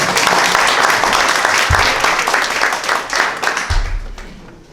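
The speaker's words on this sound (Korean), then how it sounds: "큰 박수로 환영해 주시기 바랍니다." Loud, dense applause from a policy forum audience welcoming a National Assembly member to give opening remarks, a sustained wash of clapping that fades out toward the end.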